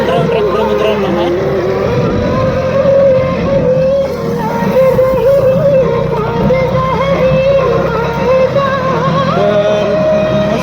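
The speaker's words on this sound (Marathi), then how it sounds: "आपल्यासमोर फार्म ट्रॅकचं अँटम 26 ट्रॅक्टर आहे मित्रांनो" A Farmtrac Atom 26 four-wheel-drive mini tractor with a cultivator attached runs its engine close by, a loud, steady droning rumble that holds for the whole stretch, with only slight variations.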